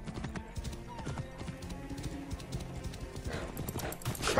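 Horse hooves clip-clop at a steady trot in Assassin's Creed Origins, close and fairly loud throughout, with a brief whinny and a swell of wind or rushing near the end.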